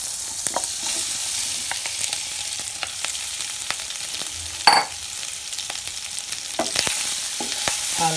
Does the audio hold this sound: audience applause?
no